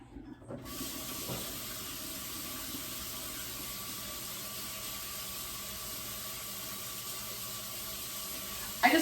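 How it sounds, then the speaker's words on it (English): Cold tap water runs steadily over drained cooked macaroni in a kitchen sink, a constant even hiss with a faint rattle at the end and no talk. "we're gonna run some cold water over them because we want to stop that cooking process"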